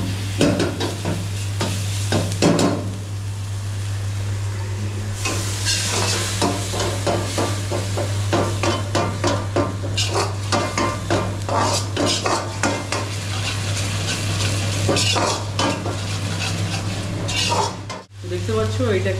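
Thai curry being stirred in a pan in a restaurant kitchen: a spatula scrapes and taps repeatedly against metal over a low sizzle and a steady kitchen hum, close and busy, with a brief dip near the end.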